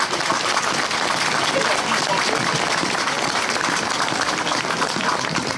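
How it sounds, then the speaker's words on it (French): Dense, steady applause from an audience at a Chablis wine brotherhood ceremony during the Saint Vincent 2023 festival in Fleys, filling the whole stretch at full loudness. "On peut les applaudir"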